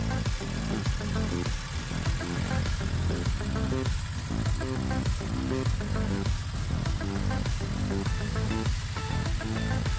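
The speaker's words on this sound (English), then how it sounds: "The vehicle ran, idled, and shifted well after all the work." A Kawasaki Mule 3010 utility vehicle engine running after carburetor and fuel tank cleanup, a loud, steady rumbling drone with a rhythmic pulsing beat throughout, with no voices.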